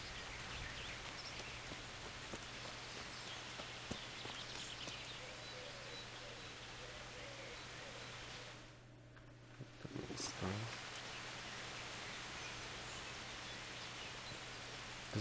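Steady rain patters throughout in the video game Kingdom Come: Deliverance, with a brief lull and a faint rustle partway through, with no voices.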